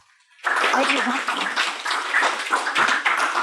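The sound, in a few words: audience applause welcoming a speaker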